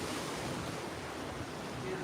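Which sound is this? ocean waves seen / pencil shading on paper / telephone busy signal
ocean waves seen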